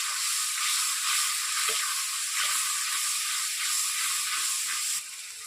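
Ginger paste and tomato paste hit a pan of caramelised sugar and oil, giving a loud, steady, bright sizzle with faint stirring taps, easing slightly at the end.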